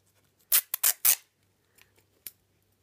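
Adhesive tape handled during a bottle vase craft: three quick, loud ripping pulls close up in rapid succession, then quiet rustling and one short sharp snip or tear.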